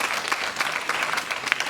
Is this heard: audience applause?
yes